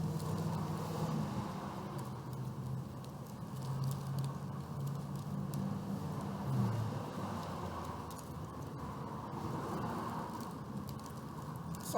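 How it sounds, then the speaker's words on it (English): Continuous rumble of busy street traffic, a steady broadband wash of passing vehicles that stays fairly loud throughout with small swells, no clear separate events standing out. "We're on a busy street."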